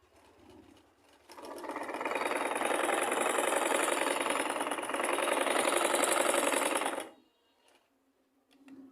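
A sewing machine runs steadily for about six seconds after its bobbin is put back in, following a fix for upper-thread looping, a loud continuous whir that starts and stops abruptly with quiet handling before and after.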